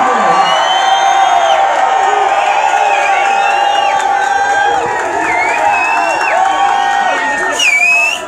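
A concert crowd cheers and whoops loudly and steadily at a hip-hop show, a dense roar of many voices with scattered high shouts and whistles throughout, ending in a sharp whistle near the close.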